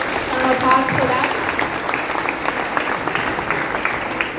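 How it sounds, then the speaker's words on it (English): An audience at a Sunday feast lecture in a temple claps in steady applause, a brief voice near the start, then continuous clapping for the rest. "please, one big round of applause for that"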